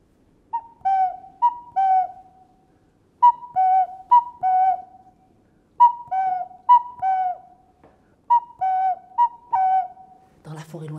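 Owl-like hoots, clear and alone, come in four short phrases of three to four tones each with pauses between, followed by a brief burst of noise at the end.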